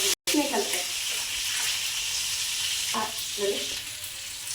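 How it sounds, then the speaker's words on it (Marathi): Batter-coated bombil fish fries in a pan with a steady, close, hissing sizzle and occasional faint stirring clinks throughout. "बघा आता ह्या अशा पद्धतीने आपले पीठ फ्राय तयार झालेली आहे"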